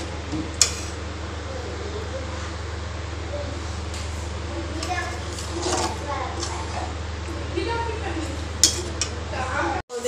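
Elephant foot yam being stirred in a pan, with scattered metallic clinks and scrapes of a spoon against the pan over a constant low hum. Someone talks through most of it.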